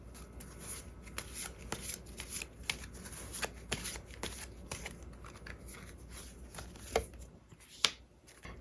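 Tarot cards being shuffled by hand in a quiet room, a steady run of soft papery riffles and flicks with a few sharper snaps near the end, close and fairly quiet.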